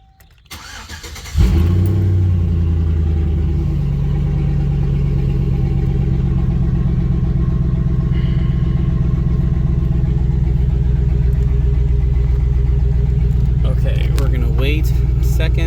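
A 2006 GMC Sierra 1500 SLE Crew Cab truck engine cranks briefly and catches, then settles into a loud, steady idle rumble close by, with wind and occasional talk over it.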